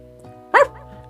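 A single short bark from a cute cartoon dog in the video game I love you Colonel Sanders, sharp and close over a faint sustained musical tone.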